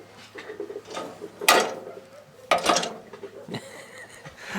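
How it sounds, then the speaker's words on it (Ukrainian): Adapter lift on a walk-behind tractor pressed down and clicking into its lock: a few sharp metallic clacks and ratchet-like knocks spaced over a few seconds, close by. "Бачиш, натиснула на підйомник і зафіксувався він."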